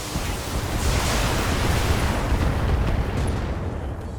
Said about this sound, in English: let's fire on the Griffin